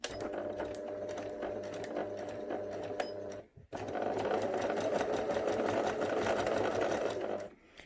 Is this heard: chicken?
no